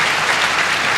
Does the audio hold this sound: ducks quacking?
no